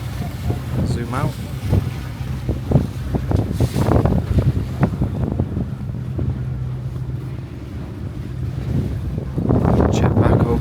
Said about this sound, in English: I don't know what's gonna happen to the sound. It's a bit windy.